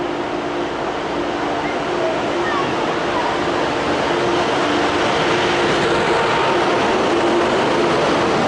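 ICE high-speed train at Berlin Hauptbahnhof serving Hamburg: a steady, loud broadband rumble and hiss of rolling stock filling the station hall, continuous throughout with faint tonal whines and murmuring voices underneath.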